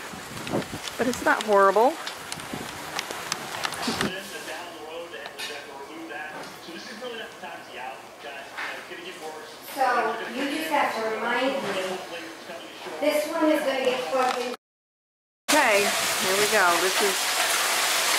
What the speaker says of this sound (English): it's raining, and it's breezy